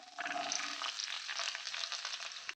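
Cashews, peanuts and chopped onion fry in hot oil in a pan, giving a steady, close, broadband sizzle that holds evenly for about two seconds and then cuts off abruptly, with no talking.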